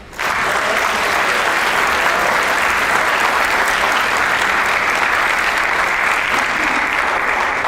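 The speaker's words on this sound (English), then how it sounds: "Let's clap it up." A leadership summit audience bursts into loud, dense applause that starts abruptly and holds steady and close for several seconds.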